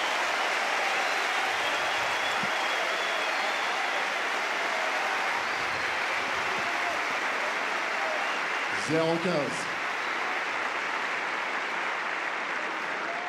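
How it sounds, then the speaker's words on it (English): Loud, sustained applause from a large crowd at a Roland-Garros tennis match, a dense steady roar of clapping after a long rally that fills the whole stretch without letup. "Apt round of applause. Loud and lengthy."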